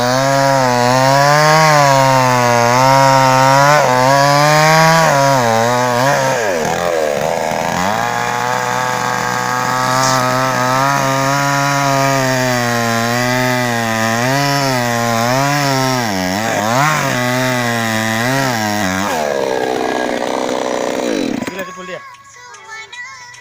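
A chainsaw cutting down a tree, a loud close engine whine that rises and falls in pitch as it bites into the wood, running for about twenty seconds before cutting out abruptly.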